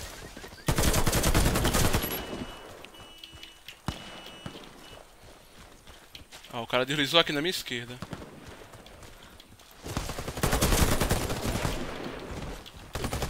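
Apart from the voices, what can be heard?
gunfire in a video game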